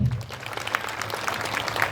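Audience applause at a Home Minister game show held in Ashti, a steady wash of clapping from a large crowd, moderately loud and spread throughout.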